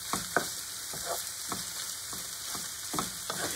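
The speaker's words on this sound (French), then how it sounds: "Je remue. Et je laisse cuire environ 2-3 minutes." Food cooking in a pan for gratinated christophines with shrimp gives a steady, bright sizzle, with periodic scraping strokes as a utensil stirs the mixture.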